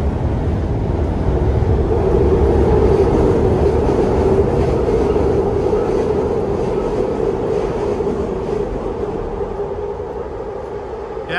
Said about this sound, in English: This train overpass that we're under, that's the Market Frankford line.